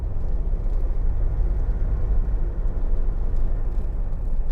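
Inside a 2009 Jeep Wrangler Sahara Unlimited with a 2.8 engine cruising on a motorway, a steady low rumble of engine and road noise droning continuously with no speech.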